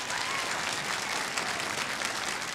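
Audience applause at a political comedy show, given as a yes vote on impeachment: a thick, continuous burst of clapping from a large crowd, loud and even from start to finish.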